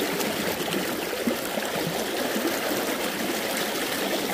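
A trout stream on the Yellow Breeches flows steadily nearby, a loud, continuous broadband rush and trickle of water with no voices.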